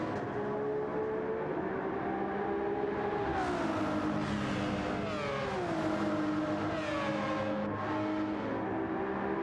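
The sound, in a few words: Citroën race car engine in Gran Turismo 7 video game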